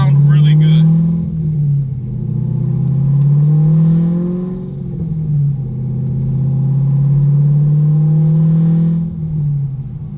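A 600 HP Chevrolet Corvette C5 Z06 V8 revs loud and close, its deep rumble swelling and falling in long repeated pulls.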